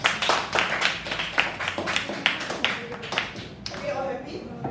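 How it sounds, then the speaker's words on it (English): A classroom applauds together, a burst of quick, dense clapping up close that thins into scattered claps, with students' voices talking over it toward the end. "Can we give that a round of applause?"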